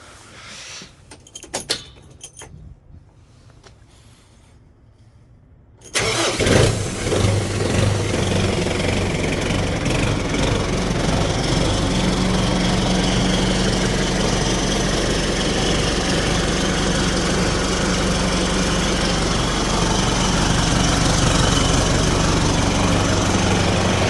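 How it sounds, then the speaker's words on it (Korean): Tractor engine after a head gasket repair: a few clicks and rattles, then the diesel cranks and catches around six seconds in and settles into a loud, steady, close idle with a low rumbling hum. "시동을 한번 걸어 보겠습니다"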